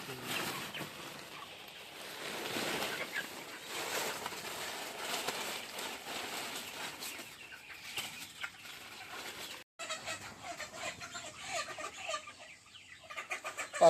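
Chickens cluck continuously, close and fairly loud, while a batch of around twenty birds is being sold and weighed, with rustling and flapping mixed in and a brief drop near the end.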